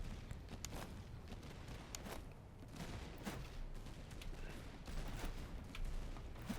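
Musket volleys in the video game Master of Command, a winter campaign battle: faint, distant rippling gunfire with repeated irregular cracks over a low rumbling battlefield bed.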